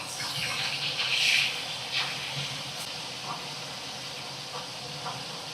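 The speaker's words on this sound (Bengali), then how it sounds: "মাছগুলোকে দেখো উল্টে পাল্টে ভাজা করে নেব।" Pieces of rui fish fry in hot oil in a pan. A louder burst of hissing spatter opens the sound, then it settles into a softer, steady sizzle with faint crackles and no voices.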